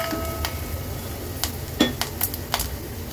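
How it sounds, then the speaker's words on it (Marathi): A spoon stirs turmeric into food cooking in a pan over a medium flame, giving a soft background sizzle with several sharp metallic clinks and scrapes against the pan. "हळद देखील व्यवस्थित मिक्स करून घेऊया"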